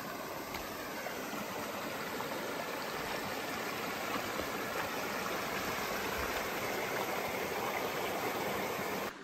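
A small creek in the Yukon wilderness flows nearby, a steady, even rushing and babbling of water that holds the same level throughout, with no voices.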